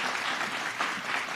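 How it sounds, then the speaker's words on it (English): Audience applause at a school funding budget event honoring Governor Murphy, a steady dense patter of many hands clapping throughout, fairly close and even. "Let's give him a big round of applause."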